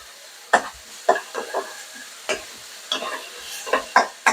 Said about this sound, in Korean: 송이버섯을 볶고 있습니다